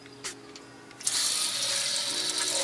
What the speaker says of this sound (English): I'm going to put the water in first